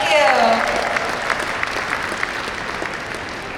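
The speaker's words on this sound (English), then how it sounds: "Can we give them a round of applause, please?" A crowd at a Lunar New Year 2019 event at Brookfield Place claps for Chinese musicians who played erhu, guzheng and pipa, with steady, fairly loud applause that slowly fades after a brief tonal sound at the start.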